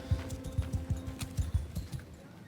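Horse hooves clip-clop in the video game Mount and Blade 2: Bannerlord, a steady run of about eight dull thuds at a walking pace, moderately close over a faint background hum.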